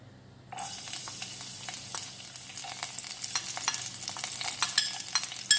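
Garlic dropped into hot oil in a pan for gobi manchurian, breaking into a bright, crackling sizzle that starts suddenly and keeps popping and spattering, growing slightly busier as it goes.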